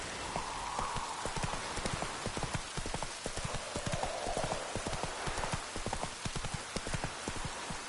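Horse hooves clip-clop steadily at a walking pace in The Witcher 3 video game, a close, even rhythm of hoof strikes continuing throughout over a light background wash with no talk.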